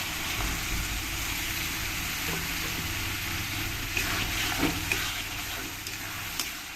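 Chicken frying in a pan with tomato paste just added makes a continuous, soft, even sizzle. The hiss holds steady throughout, with a few faint clinks and stirring sounds and no one talking.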